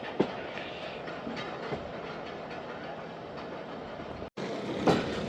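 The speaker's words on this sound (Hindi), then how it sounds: "ये लग रहा है कि यार्ड में जा रही है ट्रेन मेन लाइन की बजाय।" Khyber Mail passenger train running on rails near Khanpur, a steady, close rumble of wheels with faint clicks, briefly cut off near the end before resuming.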